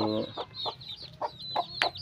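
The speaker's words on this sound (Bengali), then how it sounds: "আর আজকে এগুলারে বাইর করছি মুরগির বাচ্চা" Three-day-old native chicks give high, thin peeping cheeps in quick repeated bursts, close by, with a brief low voice at the start.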